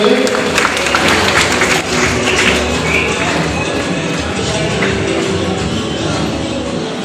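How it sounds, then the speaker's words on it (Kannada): Loud, steady applause from a crowd at an engagement ceremony as the engaged couple arrives on stage for couples' games, dense clapping filling the whole stretch with faint voices mixed in. "ಜೋರಾಗಿ ಚಪ್ಪಾಳೆ ಬರಲಿ"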